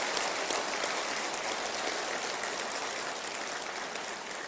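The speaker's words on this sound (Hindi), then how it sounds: "एक बार उनके लिए भी ताली बजाएं" A seated audience claps for a speaker at a meeting, a dense hiss of many hands beginning strong and tapering slightly by the end, loud and unbroken, with nothing else heard beside it.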